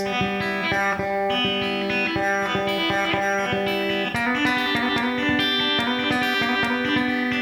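Distorted electric guitar plays a fast, steady rolling arpeggio, notes cycling rapidly across the strings in an even, driving rhythm.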